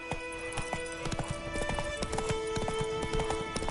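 Roach the horse gallops in The Witcher 3 on PS5, a quick steady clip-clop of hooves under a continuous game soundtrack, close and moderately loud throughout.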